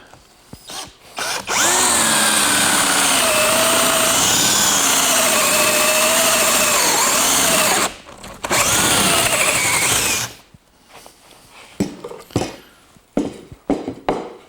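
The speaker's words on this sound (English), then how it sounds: "what I want to do is drill that 2-inch hole" A power drill whirs loudly for several seconds boring a 2-inch hole in a board, pauses briefly, then runs again before stopping, followed by scattered knocks and handling sounds.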